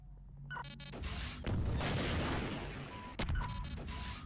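Sniper rifle shots in Half-Life 2: Episode One, a few sharp booming reports with long echoing tails over a steady game ambience.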